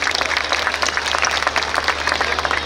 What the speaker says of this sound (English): putting our hands together in loud applause to our students